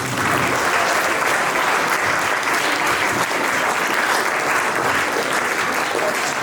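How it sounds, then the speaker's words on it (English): An audience at a college Gandhi Jayanthi program gives sustained, loud applause, a thick, even roar of many hands clapping that holds steady from start to finish. "A very huge round of applause for everyone."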